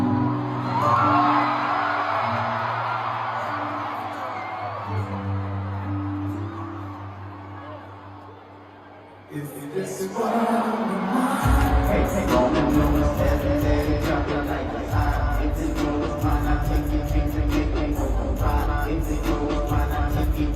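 A Toronto crowd at a concert whoops and cheers, a large mass of shouting voices swelling loudly after a lull, mixed with music and some talk.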